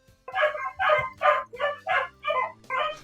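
Several dogs barking in a quick, even series of about seven loud, close barks with short gaps between them, no other sounds around.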